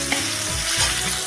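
Chopped onions fry in hot oil in a wok, giving a dense, steady sizzle that stays close and loud for a short stretch, with no voices.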